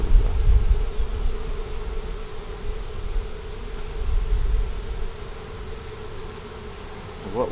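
A honeybee swarm with a white queen buzzes in a hive box with brood and honey frames, giving a steady low droning hum with a few louder passes of nearby bees, close and continuous, with no talking.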